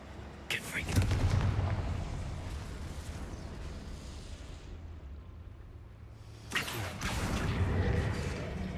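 Confringo fire-blast spells go off in Hogwarts Legacy as two roaring bursts with low rumbles that fade between them, set inside a game soundscape.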